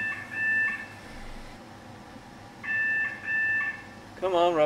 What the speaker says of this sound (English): Come on, Robin, answer the phone